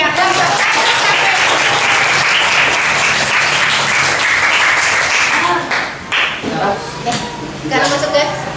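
Classroom of students clapping for all the groups during a teacher's practicum lesson, loud sustained applause that thins into scattered claps as voices start to talk over it.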